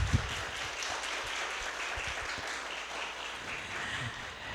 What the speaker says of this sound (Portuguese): uma salva de palmas para a Valéria